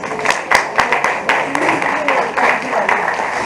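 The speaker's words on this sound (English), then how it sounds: "Please join me in giving Dr. Sharada Avadhanam a huge round of applause." Applause from a forensics event audience welcoming a speaker, a steady wash of many hands clapping with a few sharper individual claps standing out, some voices murmuring underneath.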